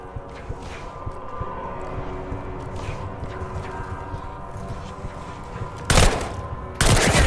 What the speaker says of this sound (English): Any gunfire? Yeah. Sounds like it's coming from one of the lower floors.